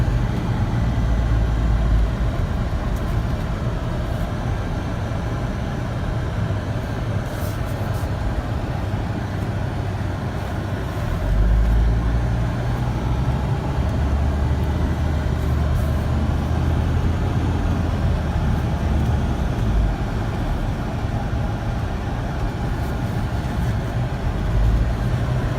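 A Mercedes 300SD drives around the block, its engine and road noise a steady low rumble heard from inside the car with no talk.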